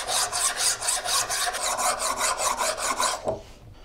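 A draw knife is stroked repeatedly across a worn, hollowed sharpening stone with oil, giving a close, steady series of rhythmic rasping scrapes, roughly three per second, before stopping abruptly near the end.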